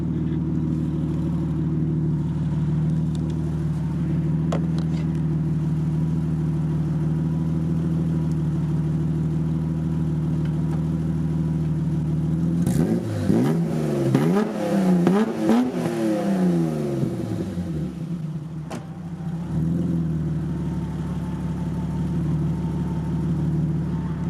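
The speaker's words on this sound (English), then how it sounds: "I'll give it a rev so you can hear what it sounds like" BMW E30 325i idling with its rear exhaust box missing, leaving only the midsection, then blipped through a few sharp revs that rise and fall before it settles back to a steady, gruff idle.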